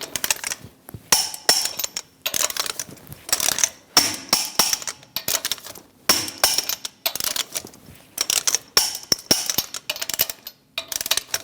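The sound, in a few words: torquing van lug nuts with 22mm socket wrench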